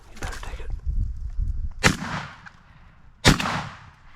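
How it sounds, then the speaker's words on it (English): Two sharp, loud gunshots fired at a turkey through branches during a spring turkey hunt in New Brunswick, each cracking out with a long decaying tail, the first preceded by rustling and low handling noise. "Take a shot right through all the branches."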